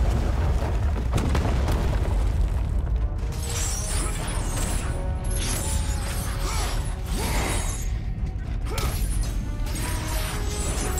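Heavy mechanical rumbling of shifting, turning level machinery in God of War Ascension, loud and continuous, with creaks, ratcheting clanks and booming crashes layered throughout.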